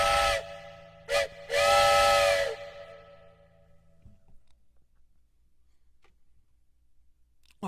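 A train whistle is blown close up in three blasts, a long one, a short one, then another long one, followed by near silence with faint clicks.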